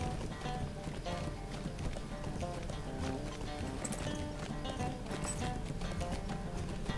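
In the video game The Lord of the Rings Online, horses near the Bree-town jail make a steady clip-clop of hooves, mixed under continuous background game music.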